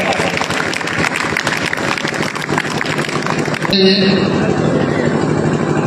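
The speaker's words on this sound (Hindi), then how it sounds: "जोरदार तालियों के साथ स्वागत करें" Dense, steady clapping from an audience welcoming a guest onto the stage fills the first few seconds, then gives way to sustained tones and a busier mix of sound.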